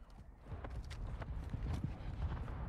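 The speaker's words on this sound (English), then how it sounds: "I heard footsteps like a motherfucker." Rapid running footsteps in Call of Duty Warzone, a dense run of low, muffled thumps at steady pace, heard faint and slightly distant under game ambience.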